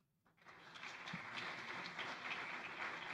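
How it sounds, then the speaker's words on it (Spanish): Brief audience applause at an academic lecture in Spanish, a steady wash of clapping that rises after a quiet start and holds evenly, moderately distant. "les pediría mucha atención y un breve aplauso para el doctor Aníbal Sotelo"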